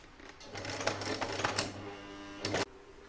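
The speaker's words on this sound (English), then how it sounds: "now I'm going to pop that in my machine and stitch it" A sewing machine stitching together two fabric pieces of a patchwork Christmas stocking, running in a quick continuous mechanical whir with rattling clicks for about two and a half seconds before stopping, fairly quiet and close.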